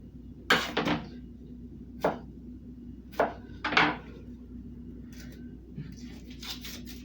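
A knife chops through a big onion on a board, giving several sharp, separate thuds spaced unevenly across the moment, close and fairly loud, with a low steady hum underneath.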